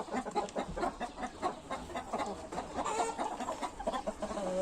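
Chickens and roosters, including Indian game roosters, cluck and call in a busy flock, with overlapping bursts close by and a steady background of farmyard noise.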